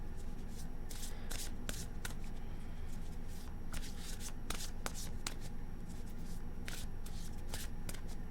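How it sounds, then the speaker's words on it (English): Tarot cards being shuffled by hand: quiet, close riffling and snapping bursts in an irregular rhythm, repeated over several seconds with no speech. "One more shuffle, please."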